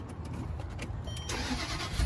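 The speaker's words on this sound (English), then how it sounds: "And it'll start the car." A Range Rover started with a newly programmed smart key cranks and catches, then settles into a steady idle, heard close and moderately loud.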